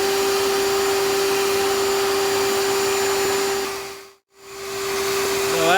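A heat gun roasting coffee beans blows a loud, steady whooshing hum with a fixed tone, dipping briefly as it is switched off or moved away, then returning.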